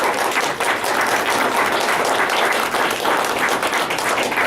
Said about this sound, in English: You can go ahead and give them a round of applause right now if you want to.